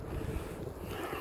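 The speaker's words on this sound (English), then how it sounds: "Water choppy. It's really windy," Strong wind gusts over choppy water on a bass fishing outing, a brief, steady roar of wind buffeting with a watery wash beneath.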